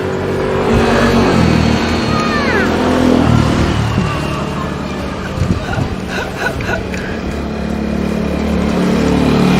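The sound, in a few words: small motorbike ridden by a kid passing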